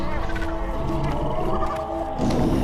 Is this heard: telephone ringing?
no